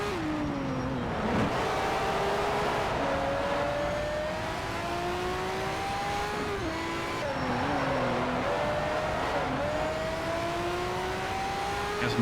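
Race car engines, including a McLaren F1, lapping the Laguna Seca circuit in Need for Speed: Shift, with steady high revving engine tones rising and dropping through gear shifts, loud and continuous.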